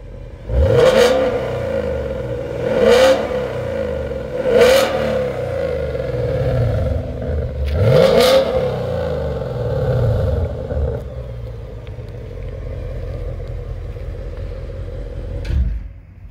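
A 2019 Mustang GT's active exhaust in quiet mode revs up sharply four times in a row over a steady idle, then settles into a low rumble, close by and fairly loud.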